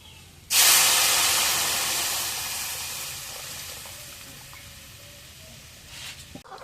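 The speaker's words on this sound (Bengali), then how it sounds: "রসুন পেঁয়াজ ভাজা হয়ে গেছে এখন ডাল দিয়ে দিই" Lentils hit a pan of fried garlic and onion with a sudden loud burst of sizzling hiss that slowly fades over several seconds, with faint stirring sounds near the end.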